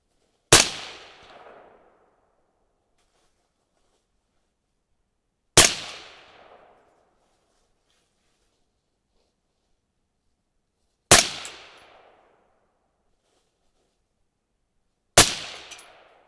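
A .22-250 rifle fires handloads made with Alliant Reloder TS: four sharp, loud single shots, each followed by a short decaying echo, spaced about five seconds apart with silence between.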